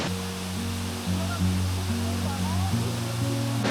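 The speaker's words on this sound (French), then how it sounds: "On vous emmène avec nous sous ce magnifique plan de la cascade qui est magnifique." A waterfall roars as a steady, broad rush of falling water, with a person speaking over it in the foreground.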